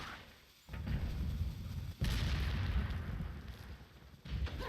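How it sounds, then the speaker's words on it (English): Gunfire in Resident Evil 4 comes as heavy booming blasts, with a sharp report near two seconds and another toward the end over a rumbling, loud background. "The best hope is to shoot it out of their hands to kill him fast."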